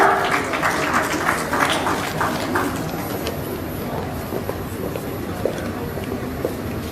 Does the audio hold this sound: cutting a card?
no